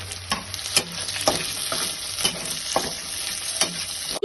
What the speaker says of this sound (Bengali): বিনস যেহেতু ভাজতে সময় লাগে সেই জন্য বিনসটাকে দিয়ে দিচ্ছি